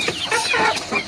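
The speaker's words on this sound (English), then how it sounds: "That is my rooster." A backyard farm rooster calls out in a short burst of clucking, crow-like cries, close and loud with no other sounds around it.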